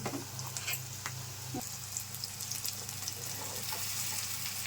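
Okra pieces frying in oil in a pan, a soft, even sizzle with faint scattered crackles and a low hum beneath, quiet and steady throughout.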